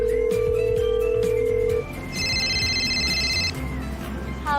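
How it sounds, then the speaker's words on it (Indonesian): A phone ringtone sounds during a call: a steady tone at first, then a higher repeating electronic ring pattern, fairly loud and close, with no talk over it. "Oh, ya udah kalau gitu aku coba hubungin Sinta ya"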